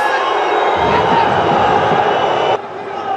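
Al Nassr football fans roar and shout appeals across a packed stadium, a loud dense crowd swell that holds steady and then drops off sharply near the end.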